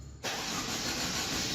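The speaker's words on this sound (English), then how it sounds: "the engine starts" A Mercedes M274 engine in a W205 C-Class cranks and catches after a brief quiet moment, then settles into a loud, steady running roar close by, with no talk over it.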